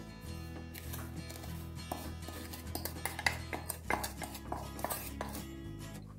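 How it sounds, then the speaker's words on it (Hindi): Sugar spooned into a pot of roasted flour and dry fruit mixture for gond laddoos, with clinking metal utensil taps and scraping against the pot, moderately loud and close, in a steady irregular rhythm. "अब इसमें हम बूरा को ऐड करेंगे।"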